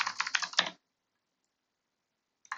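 Fingers typing on a computer keyboard during a game-engine editing session, a quick close burst of keystrokes, then silence and a short final flurry of clicks.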